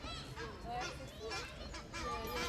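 A goose honks and squawks repeatedly in a park while scuffling with a crow, harsh calls tumbling over one another at moderate distance amid background noise.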